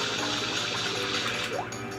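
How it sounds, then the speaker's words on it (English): In Super Mario Sunshine, FLUDD's water spray propels Mario across water before a lily pad rots: a steady, dense rushing jet of water sound over game ambience, with a brief rising tone near the end and no talk. "use Flood as to propel us across the water before the lily pad rots"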